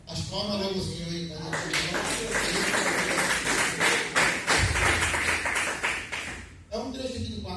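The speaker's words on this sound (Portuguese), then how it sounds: "As palmas logo o Senhor aí." Pentecostal church congregation clapping for the Lord during a worship service, a busy run of rhythmic claps lasting several seconds while voices speak and sing over it.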